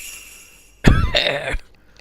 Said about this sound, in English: I kept laughing until it turned into a cough.